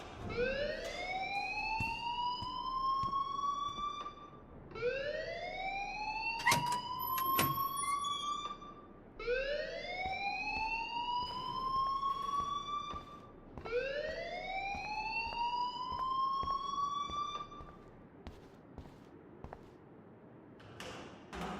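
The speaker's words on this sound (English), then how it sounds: "please turn off that alarm" School alarm in the video game Life is Strange Remastered, a loud rising electronic whoop repeating in steady cycles about every four seconds, alone without voices and with faint clicks underneath.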